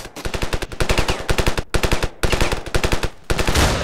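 Shotgun fire in the Ravenfield video game, loud rapid bursts of closely spaced shots in quick rhythmic volleys, broken by short pauses, ending in a louder noisy blast.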